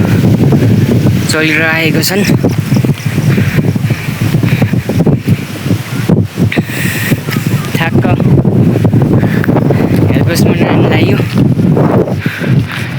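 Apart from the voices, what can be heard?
strong wind blowing on the way to the bridge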